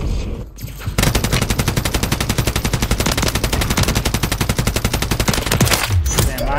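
A gun fires in Call of Duty on Rebirth Island: one long, loud, rapid-fire burst with an even machine-gun rhythm. It runs for about five seconds without pause before stopping abruptly.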